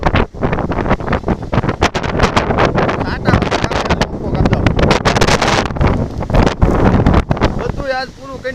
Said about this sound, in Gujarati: ભયંકર પવન આવ્યો આજે